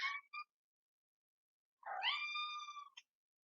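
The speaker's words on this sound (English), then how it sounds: "It's my cat" A hungry pet cat meows indoors, a short chirp followed after a pause by one long, rising, plaintive meow, close and clear against silence.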